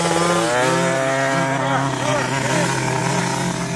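50cc mini motocross bikes race on a Spyder Grand Prix track, a continuous high-pitched buzzing engine whine with revving pitch changes, loud and close, under talk.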